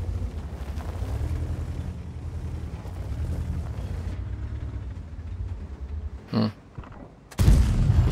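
Tank cannon fire in the World of Tanks video game, a tier-eight 53TP: a sustained low rumbling battle din with one sharp burst near the end and a heavy boom at the close, no speech.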